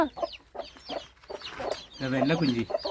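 Hen and small chicks in narrow village lanes, a string of short clucks and peeping calls in quick bursts, close by, with a louder run of clucking toward the end.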